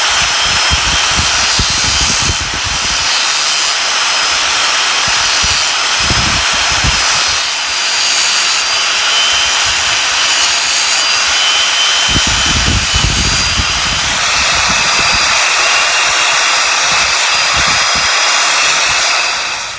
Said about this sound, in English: So I'm going to start out with a grinder